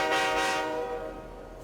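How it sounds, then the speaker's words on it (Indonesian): A train horn sounds loudly as a passenger train prepares to depart, one sustained blast that fades slowly over its length, with no talking. "Kereta api akan segera berangkat."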